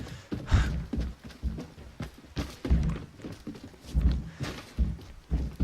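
Footsteps in a multiplayer shooter video game, several dull thunking steps in an uneven rhythm, fairly close and moderately loud, with no voices.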